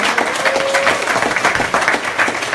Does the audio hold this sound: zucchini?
no